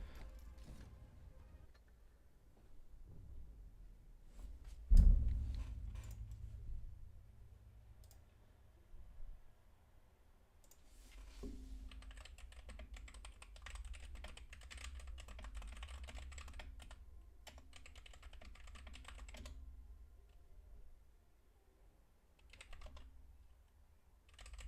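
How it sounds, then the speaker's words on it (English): Typing on a computer keyboard during a gaming session, a steady run of quick close clicks and key taps with brief pauses, joined by a heavier knock or thud partway through, with no talking. "Typing."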